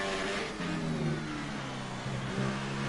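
Racing car accelerating hard in a Division 2 round in Russia, engine pitch climbing and shifting through gears across a steady, loud roar with no talk.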